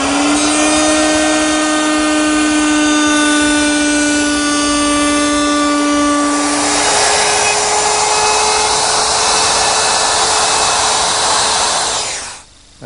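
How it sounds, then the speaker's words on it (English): A router at an old router station cuts a slot in wood with a special bit, a loud, steady high whine with a strong pitched tone that shifts midway into broader roaring noise, running continuously before cutting off at the end. "at our old router station, I've installed a special bit which will complete the slot"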